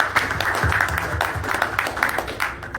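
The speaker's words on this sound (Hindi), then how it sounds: "जोरदार ताली हो जाएगा" An audience applauding at a company anniversary event, a crowd of hands clapping steadily over a low rumble of the hall, fairly loud and sustained, with no speech over it.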